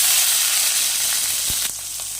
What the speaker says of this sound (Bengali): পেঁয়াজটাতে জল থেকে গেছে যার জন্য ছিটকে ছিটকে উঠলো